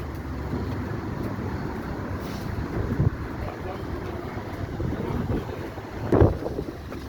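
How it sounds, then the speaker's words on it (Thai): Strong wind buffets the microphone in a steady low roar at the Wat Sai Yai floating market, with a couple of brief bumps and faint background murmur. "ลมแรงมากเลย"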